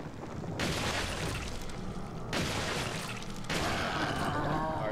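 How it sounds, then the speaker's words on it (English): Indiscriminate gunfire in Resident Evil 4 during a helicopter fight: three long, loud stretches of continuous roaring shots and blasts, each cut off abruptly, with no talking. "just start shooting indiscriminately"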